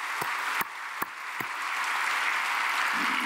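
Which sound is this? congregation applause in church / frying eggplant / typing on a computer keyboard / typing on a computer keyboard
congregation applause in church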